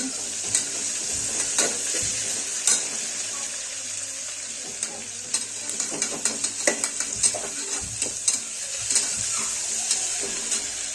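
Chopped onion and tomato fry in a pan, a close steady sizzle broken by frequent clicks and scrapes from stirring against the metal.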